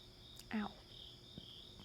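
Crickets chirr in a steady, thin, high trill that runs throughout at low volume, broken once by a short, louder thump.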